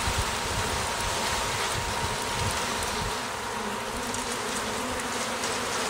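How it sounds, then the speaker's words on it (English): Honeybees shaken out of a box into a new hive, giving a steady, dense buzzing swarm drone close to the microphone throughout, with faint rustling and no talking. "now I'm going to turn this box upside down and shake out the bees into the hive"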